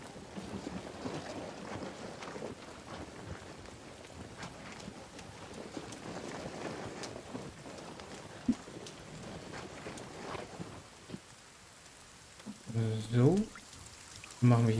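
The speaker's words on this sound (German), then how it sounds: "Ah, und es regnet. Es regnet." Rain falls in the survival video game The Forest as a steady, soft hiss running throughout, joined near the end by a few louder tonal game sounds.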